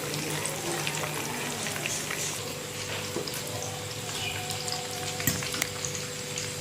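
Gola kebabs go into a hot oiled pan and sizzle steadily, a close, continuous frying hiss with a few faint clinks, no talking over it.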